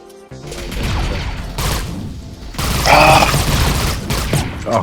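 Gunfire in the video game Vibe or Die: loud, dense bursts of shooting and booming impacts crowding together, with a brief gap and a heavier volley near the middle, no clear talking.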